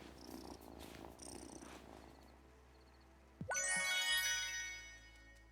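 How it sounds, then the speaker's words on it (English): A cat purrs in the farming-life video game Wylde Flowers, a soft steady rumble with bright chiming game tones rising over it in the second half. "Oh, such a good cat."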